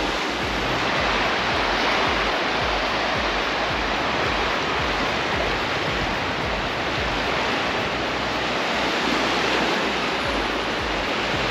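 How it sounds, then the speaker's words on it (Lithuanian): Baltic Sea waves breaking on the shore make a loud, continuous rushing roar that never lets up, with no voices over it. "prie pat jūros šniokštimas tas toksai"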